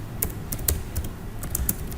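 Keystrokes on a computer keyboard typing a short word while writing a first C++ program, a quick scattered burst of close, light clicks with no talking.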